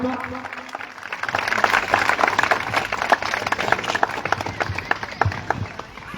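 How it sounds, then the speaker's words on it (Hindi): Rally audience applauding at a caste-community protest gathering in Saran, a dense, sustained wash of clapping and crowd noise building after the first second and continuing steadily to the end. "जोरदार ताली बजाइए आप सब।"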